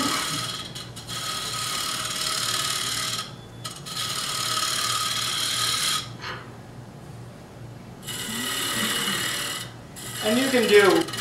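A woodturning tool cuts a step into a spinning candlestick on a lathe, giving a steady scraping, grinding whir that stops briefly twice and resumes, with a short pause before a final rising burst.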